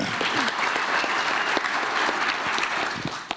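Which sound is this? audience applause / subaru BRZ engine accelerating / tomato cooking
audience applause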